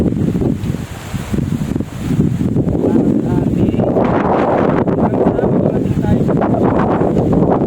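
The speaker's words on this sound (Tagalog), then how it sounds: "Sobrang lakas nga ng hangin nung mga araw na to" Strong wind gusts buffet the microphone across an open papaya field, a heavy low rumbling roar with rustling, swelling louder midway and holding steady.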